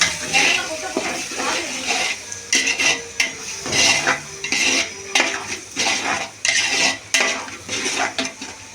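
Mutton biryani being stirred in a metal pot, with repeated loud scraping and clanking of a spoon against the sides over a low sizzle, in uneven bursts close by.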